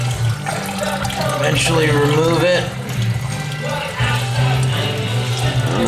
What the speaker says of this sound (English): I am draining the coolant from the radiator